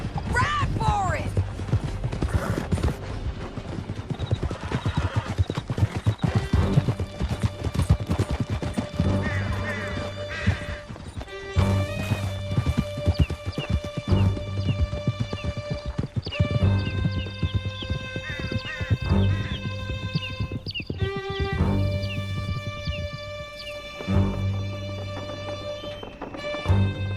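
Horses galloping hard through a canyon in Red Dead Redemption 2, their steady rapid hoofbeats loud and continuous, mixed with whinnies, crashes and game music, while voices talk over the action.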